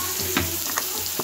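Mustard seeds frying in hot oil for a tempering, a steady close sizzle with a few sharp popping crackles scattered across the short stretch.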